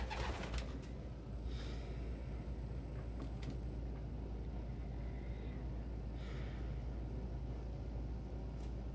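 Pet birds, pigeons or doves, coo softly at rest after breakfast, low repeated calls under a constant background hum, with a few brief higher chirps.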